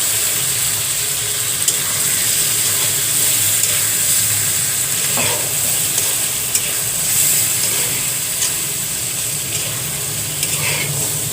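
Prawns sizzle loudly in a pan of fried spice paste, a steady hiss heard up close with occasional scrapes and clinks of stirring.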